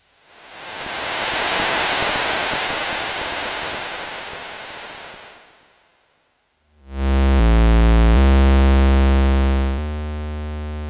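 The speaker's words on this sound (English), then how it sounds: "on the first channel we have some noise coming from the spectral devastator over on the right" Broad hissing noise from a Spectral Devastator synthesizer module that fades out, then after a short silence a loud, sustained buzzy tone with stepping pitch.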